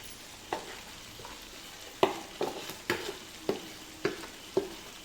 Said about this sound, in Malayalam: ഞാൻ പൊടിച്ചു വെച്ച സവാളയും കൂടി ഇതിനകത്തോട്ട് ചേർത്ത് കൊടുക്കുകയാണ്